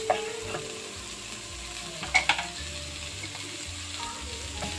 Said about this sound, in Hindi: ऐसे चॉप की हुई प्याज डालनी है